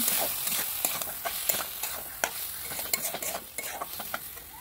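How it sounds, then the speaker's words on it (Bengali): Fried potatoes being stirred into sizzling masala in a pan while cooking a Bengali dish, with steady frying crackle and irregular scraping strokes of the spoon, close and fairly loud, no talking. "এরপরে ভাজা আলুগুলো দিয়ে নাড়াচাড়া করে নেব"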